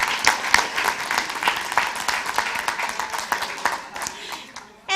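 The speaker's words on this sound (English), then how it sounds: "Yes, you should clap for yourselves" The graduating class of 2023 applauds itself at a commencement ceremony, a dense burst of sharp, close hand claps that keeps up a lively rhythm before tapering off, with voices mixed in.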